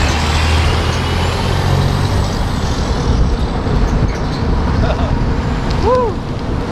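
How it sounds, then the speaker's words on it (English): A dump truck passes on an icy road, heard from close by as a loud, continuous rumble of engine and tire noise mixed with wind, with a short squeal near the end. "the other dump truck had to squeeze by"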